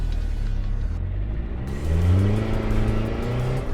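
A Mitsubishi Delica L300 van engine revs up steadily and loudly, pitch rising as it accelerates, with a continuous road rumble underneath.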